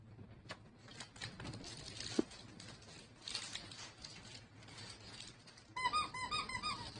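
Rubber dog toy squeaks, a few sharp, isolated ones and then a rapid run of high squeaks at the end, close by and fairly quiet.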